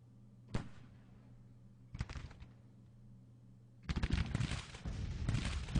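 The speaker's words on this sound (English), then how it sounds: "Long range fire from Fagin's skirmishers." Long-range skirmisher musket fire in a Civil War tactics battle: two separate distant volleys crackle over a low steady hum, then a longer ragged fusillade of overlapping shots builds up and keeps going.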